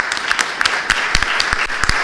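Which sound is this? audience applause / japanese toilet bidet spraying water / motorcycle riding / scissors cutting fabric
audience applause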